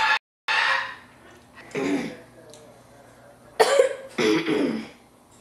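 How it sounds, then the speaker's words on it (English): A few rough, bursty coughs, near and moderately loud, separated by short pauses of quiet room tone. "That's quite the cough."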